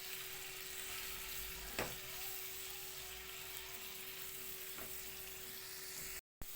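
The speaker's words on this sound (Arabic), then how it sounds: "هنبتدي بقى نقلبها بعد الفراخ بتاعتنا خدت الصدمة الحلوة بتاعتها" Chicken and minced onion fry in a pan as a filling for chicken béchamel pasta and get stirred now and then. A faint, steady sizzle runs throughout, with two brief scrape-like knocks from the stirring and no talking.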